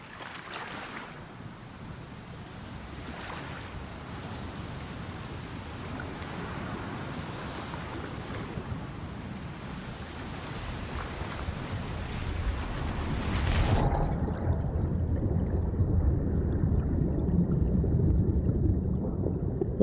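Steady rushing water and waves wash continuously in the climbing video game Jusant, with a wind-like hiss that thickens and grows slightly louder in the last few seconds after the higher sounds drop away.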